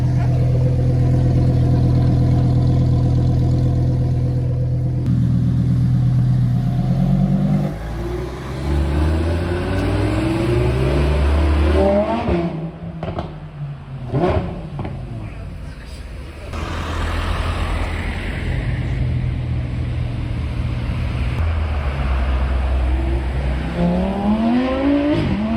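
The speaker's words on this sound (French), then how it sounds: "Regardez ça, le V10 qui tourne." A V10 sports car in Deauville revs hard and pulls away, its engine note rising and falling through several loud sweeps, with people talking over it throughout.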